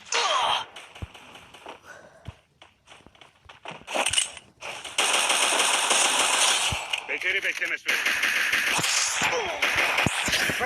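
Gunfire from the Free Fire mobile game comes in scattered bursts and single shots. Game effects and loud busy noise mix with brief stretches of quiet, and voices talk and react between the bursts.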